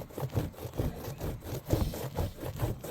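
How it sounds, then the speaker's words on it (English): Beeswax candle rubbed back and forth over a stretched boar skin during hide tanning, giving a steady rhythmic scraping and rasping stroke at moderate loudness with no talk. "I figured I'd use the candle instead of buying the expensive oil, just rub into it, stretch it"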